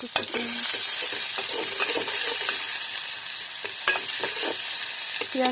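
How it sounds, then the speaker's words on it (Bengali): Chopped onion sizzles in hot oil for a chicken liver curry, with a steady frying hiss and repeated scraping strokes of a spoon stirring the pan up close. "তারপরে হচ্ছে দিয়ে দিচ্ছি পেঁয়াজ কুচি, পরিমাণ মতো পেঁয়াজ কুচি।"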